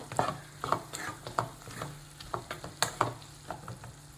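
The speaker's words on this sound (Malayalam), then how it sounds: "ആവശ്യത്തിനുള്ള പൊടികളും കൂടി ഇട്ട് കൊടുത്തിട്ട് വഴറ്റിയെടുക്കാവേ" Spice powders are sautéed in a pan with a low sizzle. A spoon scrapes and taps in a quick, rhythmic series of stirring strokes close to the ear, with no one speaking.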